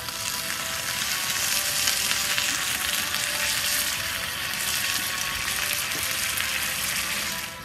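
Onions and braised beef short rib juices sizzle steadily in a hot pan, a dense continuous frying crackle that stays close and loud throughout with no talking.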